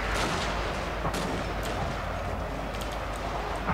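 Massed musket and rifle gunfire from a Fall of the Samurai battle in Shogun 2: Total War. A dense, continuous crackling rattle of many shots plays at steady loudness, with occasional sharper cracks and no talk.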